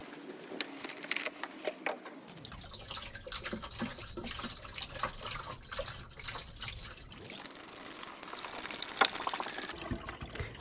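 Water is poured into the washer fluid tank of a Mercedes A-Class W169, a faint, steady trickling and splashing that runs continuously, with a hollow gurgle in the middle stretch.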